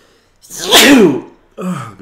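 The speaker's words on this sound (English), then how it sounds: "Oh, Gesundheit." A single loud, close human sneeze with a sharp explosive burst, followed after a short pause by a smaller second sound.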